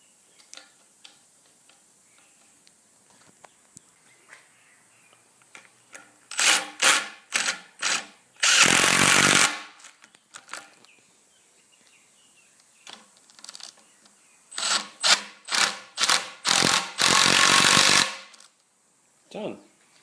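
A power tool fastens nuts and bolts on the last section of a leg assembly, running in two loud groups of short whirring pulses, each group ending in a longer sustained burst, with quiet pauses between.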